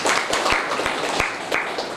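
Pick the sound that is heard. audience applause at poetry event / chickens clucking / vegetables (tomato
audience applause at poetry event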